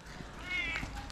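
A cat lets out one drawn-out meow indoors in an apartment, heard against a low background murmur.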